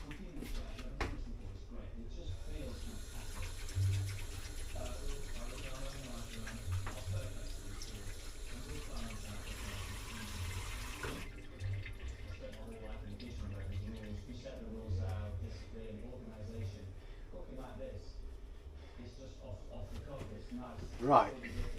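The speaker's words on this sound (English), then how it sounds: "Now it's back to washing my hands again." Hands being washed under a running kitchen tap, a steady broadband rush of water pouring into a sink, continuous for the first half and then thinning to trickles and splashes, with a person talking over it.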